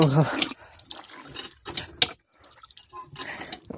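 Water drips and splashes from a hand-pump tap in a Sundarbans village as an animal drinks. The drips come as irregular, close patters, with voices speaking around them.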